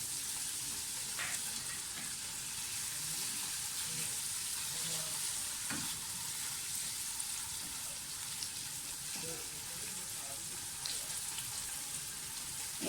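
Onion with garlic and ginger paste sautés in a pan for green moong dal, giving a dense, steady sizzle and crackle with occasional stirring scrapes, close and continuous throughout.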